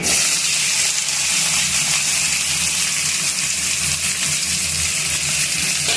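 Ivy gourd (dondakaya) pieces frying in hot oil after a tempering, a steady loud hiss and sizzle that holds evenly for the whole stretch with no talking.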